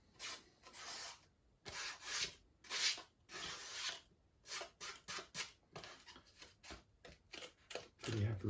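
Sandpaper rubs on a small part for an EasyJet model airplane, in repeated short strokes with brief pauses between them, close and fairly quiet.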